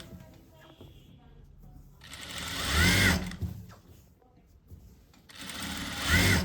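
Sewing machine stitching a belt onto fabric, two bursts of fast whirring stitches separated by a pause, with a person talking quietly between runs.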